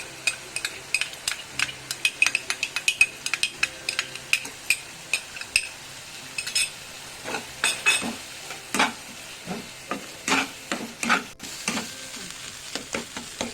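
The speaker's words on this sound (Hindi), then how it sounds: "आम ए काजूर पेस्ट पकाइबा।" Cashew paste cooks in a pan for chana masala while a spoon stirs it, giving a run of close, rhythmic scraping clicks over a soft sizzle.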